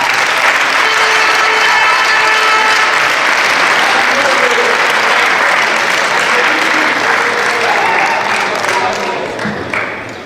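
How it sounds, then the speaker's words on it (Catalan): An audience at a sports club event with FC Barcelona breaks into loud, sustained applause. The dense clapping holds steady throughout and starts to thin out at the very end. "m'agradaria acabar amb un fort aplaudiment per tots ells i per tots nosaltres"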